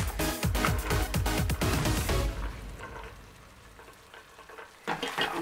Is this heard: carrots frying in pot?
yes